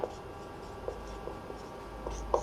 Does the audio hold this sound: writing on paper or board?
yes